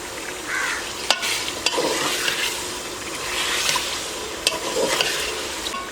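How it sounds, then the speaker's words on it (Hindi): 800 grams of boneless beef fries with roasted spices in oil for haleem, giving a close, steady sizzle broken by scraping stirs and spoon clicks, with no talk. "अभी हम इसमें 800 ग्राम बीफ शामिल करेंगे। ये बोनलेस है"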